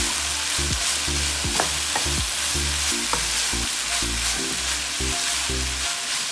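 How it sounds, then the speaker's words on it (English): Rice stir-frying in a pan for chicken and prawn fried rice, a strong steady sizzle with a regular rhythm of repeated scraping strokes and a faint tonal hum underneath, no talk. "Add in the rice, stir just the same."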